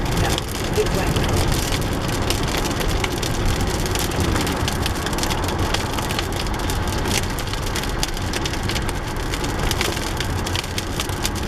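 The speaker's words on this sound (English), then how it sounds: "Was that hail? No, it rained." Steady rain pours down in Flowery Branch, Georgia, a dense, constant patter and rush that fills the whole stretch without letup, with voices talking over it.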